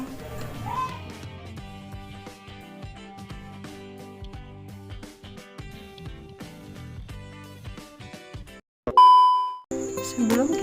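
Background music with plucked, tinkling notes plays steadily, then briefly cuts out before a bright, clear notification bell rings out alone, loud and near, and the music resumes.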